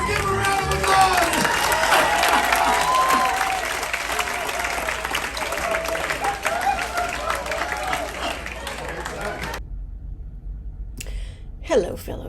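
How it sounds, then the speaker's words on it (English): An audience on the Enchanted Princess cruise ship applauds and cheers, a loud, busy wash of clapping and crowd noise that lasts most of the stretch before cutting off into near silence with a brief faint sound at the end. "Let's give a round of applause!"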